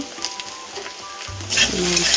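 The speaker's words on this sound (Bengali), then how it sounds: "এই যে কচু আলু বসিয়ে দিয়েছি ভাজা" Taro and potatoes frying in a pan, a soft sizzle that swells louder and hissier partway through, with faint clinks early on.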